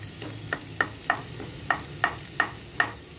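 Onion frying in a pan for a Hyderabadi paneer curry, a steady soft sizzle with regular scraping stirs roughly every third of a second, close and moderately quiet, no talking.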